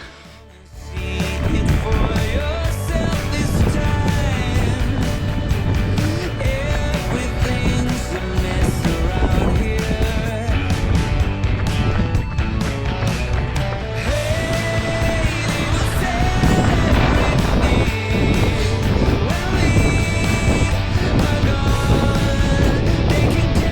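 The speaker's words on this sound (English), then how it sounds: "Just trying to find a spot where there's no wind." Strong wind buffets an outdoor microphone during a run, a loud continuous roar and rumble that persists from the first second to the end.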